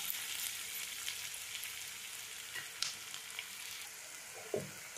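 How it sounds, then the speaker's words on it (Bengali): Onions frying in a pan for a chicken kosha, with a faint, even sizzle and an occasional soft stir or tap, heard close with no talking. "পেঁয়াজটা আমার হালকা ভাজা ভাজা হয়ে এসছে আমি একটু ভেজে নেব"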